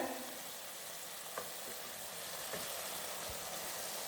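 Mutton curry with ground spice paste fries in a pan, a continuous close hiss and sizzle with a few faint stirring scrapes.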